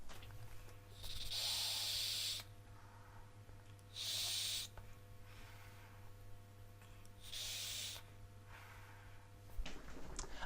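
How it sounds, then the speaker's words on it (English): Three long draws on a Viva Kita Fusion II all-in-one vape mod at 42 watts with airflow fully open, each a loud steady hiss lasting one to two seconds, separated by quieter exhales and pauses, with a low electrical hum underneath. "so let's give this guy a vape."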